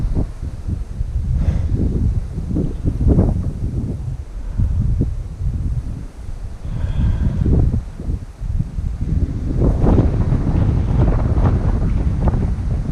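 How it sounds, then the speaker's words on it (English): Strong wind on the Table Mountain summit in the Catskills, New York, buffets the microphone in heavy, rumbling gusts that roar continuously throughout, loud and close, with no clear voices. "I apologize for the wind."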